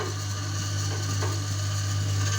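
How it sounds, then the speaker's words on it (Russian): Washing machine motor repurposed to drive a honey extractor, running steadily with a strong low electrical hum and faint mechanical rattling throughout, alone with no talk. "Ну вот движок от стиралки."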